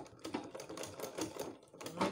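A sewing machine stitching Ankara fabric for a visor cap, a quiet, fast rattling run of needle strokes in short bursts close by, no voices.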